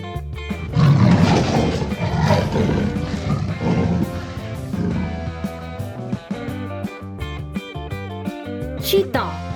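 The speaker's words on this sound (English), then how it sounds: "Leopard," A leopard roars in a series of deep, rasping calls, loud and close at first, then continuing more softly with some tonal layering toward the end.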